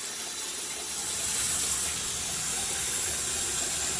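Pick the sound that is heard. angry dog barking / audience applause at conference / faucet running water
faucet running water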